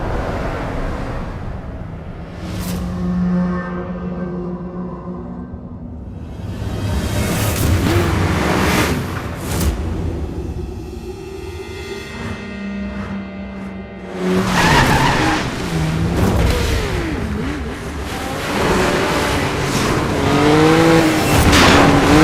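Race intro from the video game Need for Speed Most Wanted U: a dense, loud mix of car engines, skidding tires and squeals, with a louder surge of engine and crash-like noise in the second half.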